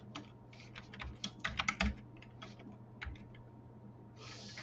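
Quiet typing on a computer keyboard while writing Python code, irregular bursts of soft key clicks with short pauses, close but faint over a low steady hum.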